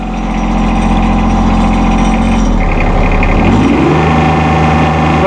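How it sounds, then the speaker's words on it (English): A 2016 John Deere 2025R compact tractor engine idles steadily up close, a continuous loud low rumble with no talking. "Come check out this package deal on this 2016 John Deere 2025R compact tractor"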